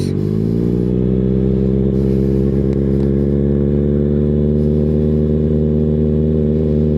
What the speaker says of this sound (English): Pull in the clutch, put it in first, slowly let it out, and get on the gas.